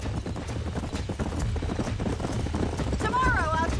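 Horse hooves clip-clop steadily at a walking pace in Red Dead Redemption, with muffled voices beneath and a short whinny near the end.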